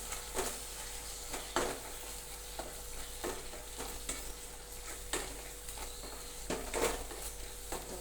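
A spoon stirs red chili, coriander and cumin powder into a vegetable curry sizzling in a pan, giving a steady fry with soft repeated scrapes and taps against the metal, close and fairly quiet.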